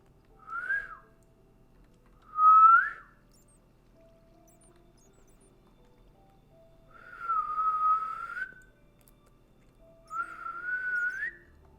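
Someone whistles four short melodic phrases alone, with quiet gaps between them, close and clear in a quiet room with no talking.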